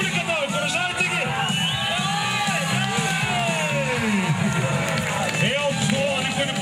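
A crowd yells, whoops and cheers loudly at the 2010 motorcycle season opening in Varna. An amplified voice calls out over the dense, continuous shouting.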